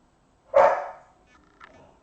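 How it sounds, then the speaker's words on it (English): A dog barking at her own reflection in a fireplace indoors: one loud, close bark, then a shorter, fainter yip about a second later. "she does love to bark at herself in the reflection, her own reflection in the fireplace, and that's what she's doing right now"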